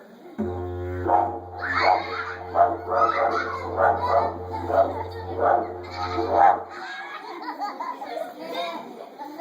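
A voice imitates a dingo barking, a run of about eight short rhythmic woofs over a steady low hum, then quieter sound trailing off.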